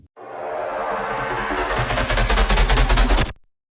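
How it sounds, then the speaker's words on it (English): A synth bass riser before a drop, swelling steadily louder and brighter for about three seconds into a pulsing, stuttering texture with reverb trailing off, then cutting off abruptly to silence. "Right before the drop hits, we have this little bass coming in"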